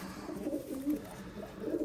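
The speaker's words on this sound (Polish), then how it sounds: "Mamy już złapanych 8 gołębi w tej małej klatce." Young pigeons held in a small cage coo softly and continuously at close range, their low murmuring calls overlapping.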